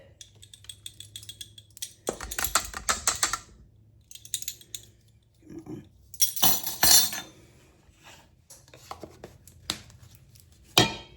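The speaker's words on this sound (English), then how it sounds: "We'll get this sifted in with the rest of it." Baking powder is sifted into dry ingredients for a fresh apple cake, with bursts of rapid rattling and clicking from the sifter separated by short pauses, close and fairly loud.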